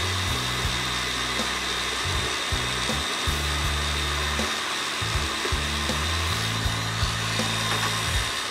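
Electric hand mixer whirring through muffin batter, a steady motor drone that shifts in pitch as the beaters change speed and load, continuous and close throughout.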